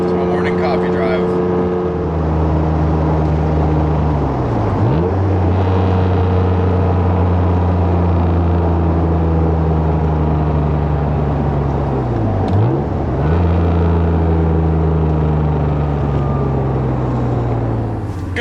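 An Acura NSX drones steadily while driving on a back road in Florida, its loud exhaust holding a constant tone that dips twice as the car shifts or lifts off, then rises again, with no talking.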